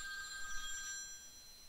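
A telephone rings faintly with a steady electronic bell trill under a low hum of background noise.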